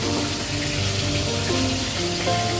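A fish head frying in oil in a pan produces a continuous, fairly loud crackling sizzle that holds steady throughout, with no voices.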